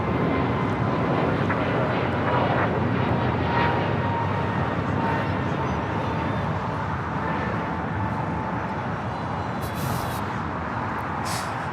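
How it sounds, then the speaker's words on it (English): American Airlines Airbus A321neo taking off at LAX, a steady, continuous jet roar at moderate distance that holds evenly before easing slightly, with a faint engine tone running through it. "American Airlines 2901 taking off to Charlotte on an A321neo"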